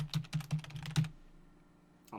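Quick bursts of keystrokes on a computer keyboard, about five distinct clacks in the first second, then quiet before a faint click at the end.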